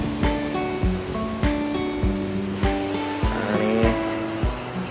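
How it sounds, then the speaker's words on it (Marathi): Sea waves on Mandavi Beach in Ratnagiri on the Konkan coast, with a lighthouse and jetty nearby. Surf washes in with a steady hiss broken by regular surges, under a faint tonal hum. "मस्त असा समुद्र किनारा आहे"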